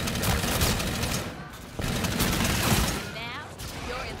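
Bursts of gunfire from a zombie shooter video game crackle continuously and fairly loud, with a short lull partway through before the shooting resumes, as voices talk over it.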